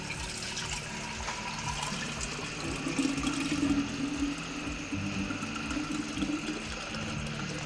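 Water dumped out of a pickling jar while fermenting pickles and sauerkraut, a steady, continuous pouring and splashing rush that swells briefly midway, close and alone.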